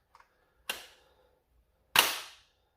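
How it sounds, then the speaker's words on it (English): A magazine is pushed into a Nerf Pro Sender blaster, giving two sharp, close plastic snaps about a second apart, with the second louder than the first and a few faint clicks before them. "Let's see how this mag fits."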